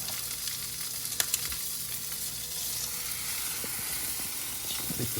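Trout frying in a hot skillet outdoors at a mountain lake, giving a steady, continuous sizzle at close range with a few small crackles and pops near the end, and nobody speaking.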